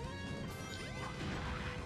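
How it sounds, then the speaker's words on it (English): A sharp splat from Sonic Adventure DX lands as a single crashing hit, loud and close against the game's continuous music and effects. "And why was there a splat sound effect?"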